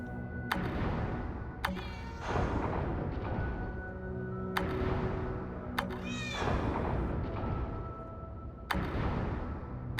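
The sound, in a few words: cat meowing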